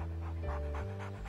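A guide dog pants softly in quick rhythmic breaths, close and quiet, under a low background tone in an animated children's cartoon.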